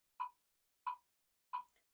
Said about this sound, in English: We're going to set our metronome on 90.